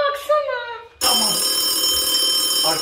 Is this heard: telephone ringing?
yes